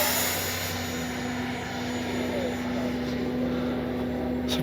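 A Freewing 90mm F-15C RC jet flies overhead with a steady, fairly quiet electric ducted-fan whine that holds level throughout, heard from a distance at an outdoor flying field with no talking.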